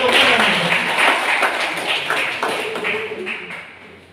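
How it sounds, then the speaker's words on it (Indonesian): Audience clapping after a call to applaud at a Bawaslu election-supervisory coaching session for Panwaslu staff; dense, steady applause from a seated crowd, fairly close and loud, tapering off toward the end. "Kita tepuk tangan."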